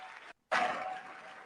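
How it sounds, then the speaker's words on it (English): Applause from the audience at a State of the Union address fills the chamber in a dense, sustained wash, breaks off for a moment, then surges back loud and keeps going. "Strong applause."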